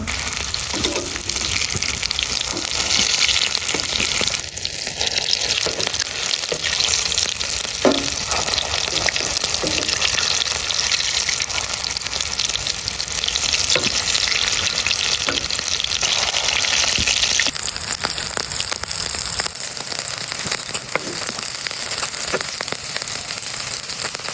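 Egg and potato chops sizzle steadily in hot oil for the whole stretch, with a dense crackling hiss and a few soft scrapes and knocks as the pieces are turned over; no voices.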